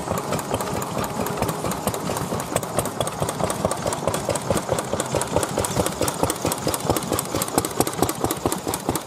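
A vintage oil engine runs at a rally, beating out a steady, rapid chug close by with a constant knocking rhythm for the whole stretch and no voices.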